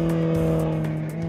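A BMW 1M coupé's engine drones steadily at a high, even pitch, loud and close, like a vehicle cruising or racing along.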